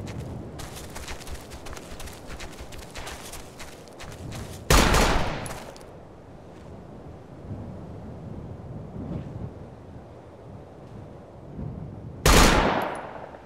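Machine gun fire in Operation Flashpoint: Dragon Rising, with rattling bursts of rapid shots and two loud, booming blasts that stand out against the distant battle noise.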